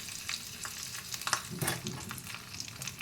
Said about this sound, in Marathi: जिरे तडतडा लागले की कढीपत्ता घाला मिरच्या घालायच्या फोडणीसाठी